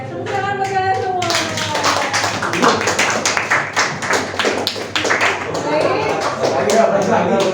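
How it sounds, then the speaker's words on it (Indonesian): An audience claps steadily for several seconds, a dense, close round of hand claps with voices speaking over and around it. "Tepuk tangan buat kalian semua."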